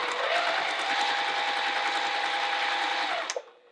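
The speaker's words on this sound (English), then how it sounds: "We need to top stitch all of these edges so they lay down nicely. Okay, let's go to the machine and do that quick." A sewing machine runs steadily at high speed, top stitching the edges of wallet card pockets, loud and close for about three seconds before stopping abruptly.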